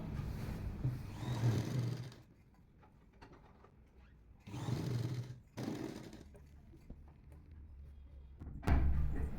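A sewing machine runs in three bursts, stitching a pressed seam on the top of an Alia cut kurti with puff sleeves, each run a steady mechanical whir broken by short quiet pauses between them.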